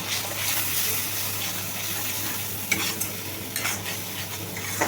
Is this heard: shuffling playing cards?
no